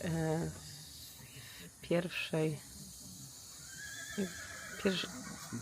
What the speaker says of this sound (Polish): pierwszy moment konia, chyba zebra. Zebra to koń.